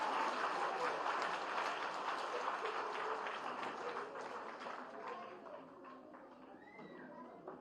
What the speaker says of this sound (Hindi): जोरदार तालियों से एक बार स्वागत